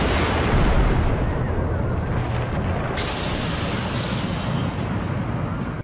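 Blasting charges fired by detonator inside an Alpine mountain produce a loud, sustained rumbling roar filling the whole clip, with a fresh surge of blast noise about halfway through.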